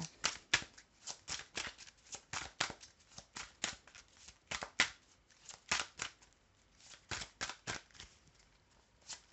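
Tarot cards are shuffled and drawn by hand, a long run of rapid, close papery riffles and flicks in uneven bursts, fairly quiet and without talk.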